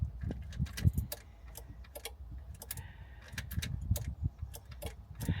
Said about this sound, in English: you can hear the relays clicking.